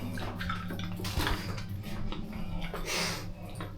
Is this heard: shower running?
yes